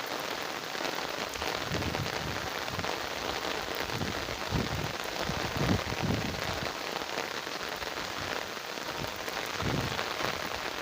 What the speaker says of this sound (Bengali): আমাদের এদিকে খুব বৃষ্টি হচ্ছে